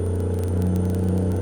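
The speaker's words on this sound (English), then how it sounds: "The upshift here, downshift." Steady low diesel drone of a mid-1980s Volvo White truck cab as the driver downshifts, a constant engine rumble with faint clatter running continuously and close, no voices.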